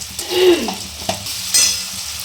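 Chilli chicken ingredients fry lightly in a pan, a soft close sizzle broken by a couple of spoon scrapes and taps, no voices.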